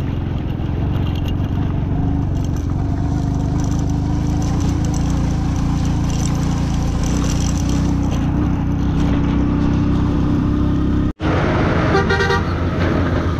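A Passion Pro motorcycle strains up a steep mountain road in Ladakh, its engine droning loudly and steadily under heavy load with wind buffeting, broken by a brief dropout near the end.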